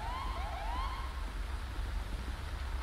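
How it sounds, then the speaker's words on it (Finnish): Out on a hunting trip, an ambulance siren wails faintly in the distance with a couple of rising and falling sweeps, behind steady low rumbling background noise. "No nyt oli ambulanssi, jos lähellä."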